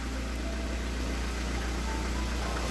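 Idling VAZ Priora with worn, knocking hydraulic lifters: an even, close engine drone carrying a fine continuous clatter, steady in level from start to end, no one speaking.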